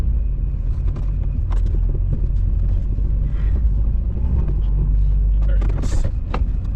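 A Duramax diesel pickup rumbles steadily along a snowy, icy road, a constant low engine drone with faint rattles and someone talking over it.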